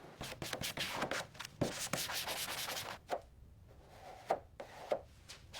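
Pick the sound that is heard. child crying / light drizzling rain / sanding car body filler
sanding car body filler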